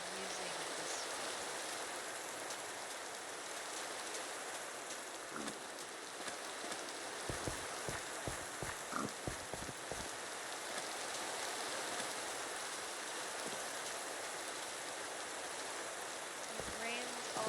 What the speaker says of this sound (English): It rains all the time. It must think we're in Florida.